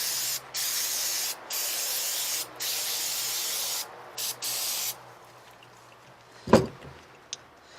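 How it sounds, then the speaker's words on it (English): An aerosol can of brake cleaner sprays onto a Kohler engine carburetor in several hissing bursts, close and loud, with short pauses between them, then a clunk and a faint click after the spraying stops. "just spray it down with some brake cleaner."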